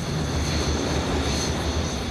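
A propeller aeroplane's engine roars at full power for takeoff, a loud, steady, close drone with a dense rumble that holds evenly throughout.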